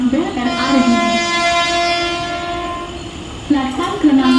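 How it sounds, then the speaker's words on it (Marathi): Mumbai local train arriving at platform 2 of Diva junction at night, a loud close horn blaring at the start and again near the end over rumbling carriages. "प्लॅटफॉर्म क्रमांक 2 में आलेली लोकल"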